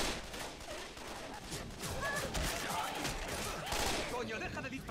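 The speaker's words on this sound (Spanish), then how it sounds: "Coño, deja de dispararme." Gunfire in the video game Left 4 Dead 2, a dense continuous fusillade of rapid shots filling the whole stretch, loud and unbroken.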